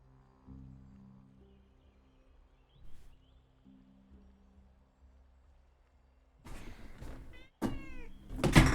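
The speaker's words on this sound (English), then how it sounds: "There's the cat." A real cat meows loudly and close in a quiet room, with a couple of drawn-out calls near the end after soft knocks and rustling.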